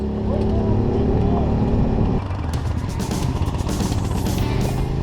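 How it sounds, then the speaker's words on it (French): A Suzuki SV motorcycle engine drones nearby in the Alps, its pitch shifting partway through as it revs up with a harsher, rising roar. "Regarde, là, on l'entend le moteur du SV."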